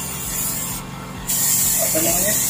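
Spray gun applying thin coats of black paint to a cracked key cover panel on a 2013 Honda Vario 125 motorcycle, a steady near hiss that cuts off briefly and then resumes, louder.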